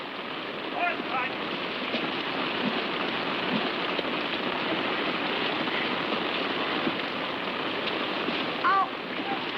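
Constant heavy rain hisses throughout, with faint voices rising briefly over the downpour.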